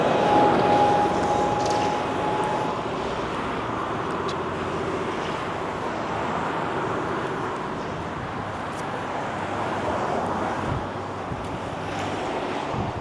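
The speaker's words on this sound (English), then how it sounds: "Traffic's really loud." Loud, continuous street traffic roars steadily along a sidewalk in Wallingford, Seattle, with wind buffeting the microphone throughout and no voices.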